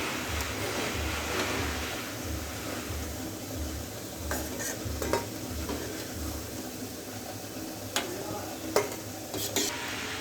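Gulab jamun dumplings fry in hot oil. A soft, continuous bubbling sizzle is broken by a few light metallic clinks of a utensil against the pan, with no talking.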